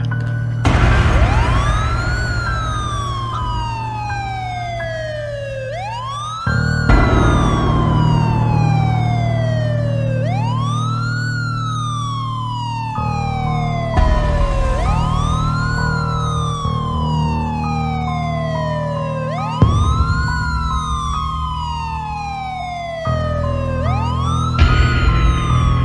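An ambulance siren wails in loud, repeated rising and falling sweeps, close by, with a low engine rumble running underneath.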